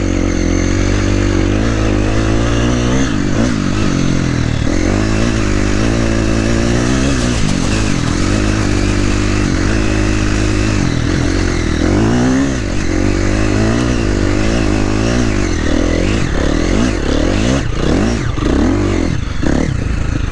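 KTM 350 XCF dirt bike engine revs loud and close on a pea-gravel, sand-like track, a continuous full-throttle roar with rising and falling pitch through the whole stretch.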